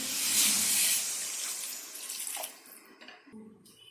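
Water pours steadily into a cooking pan for egg gravy in a loud, hissing stream for a couple of seconds, then tapers off into softer splashes.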